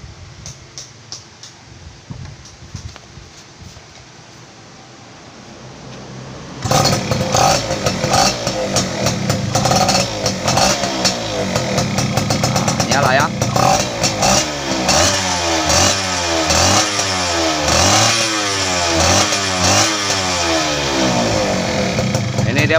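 A Yamaha F1ZR motorcycle fitted with a Jupiter Z DC CDI sits quiet, then its engine starts abruptly and runs loud and close, blipping through repeated revs and throttle rises until the end.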